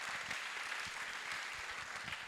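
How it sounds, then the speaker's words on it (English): An audience at an oratorical championship claps in a brief, continuous burst, a dense crowd sound that stays even throughout. "Let's give them a round of applause."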